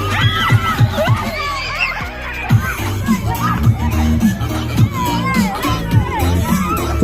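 A crowd of schoolchildren at an outdoor school birthday celebration shouts and cheers loudly together, with bursts of screaming and laughter rising and falling over several seconds.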